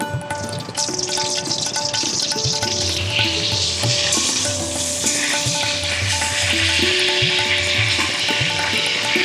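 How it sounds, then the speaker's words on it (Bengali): Steamed cauliflower sizzles loudly in hot oil in a wok, with steady frying crackle and repeated scraping stirs throughout, close and continuous with no talking. "কপিটাকে আমি এবার ভালো করে একটু ভেজে নেব।"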